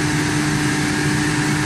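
A Nissan VR38DETT twin-turbo V6 from the R35 GT-R running steadily on a factory dyno in Yokohama, a loud continuous high-revving drone with a constant pitch and no pauses.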